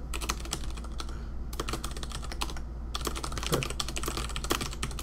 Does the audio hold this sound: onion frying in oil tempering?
no